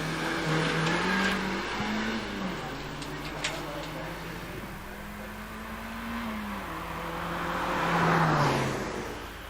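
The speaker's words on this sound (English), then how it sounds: "Two-litre Mazda MX-5 116 Oliver Chilton comes around Ettores" A two-litre Mazda MX-5 hillclimb race car at Prescott, engine rising and falling through gear changes as it accelerates around a bend, moderately near and swelling toward the end, with a commentator talking over it.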